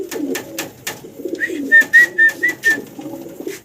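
A pair of fancy pigeons coo up close in a steady run of five or six rounded, rhythmic coos over soft background rustle.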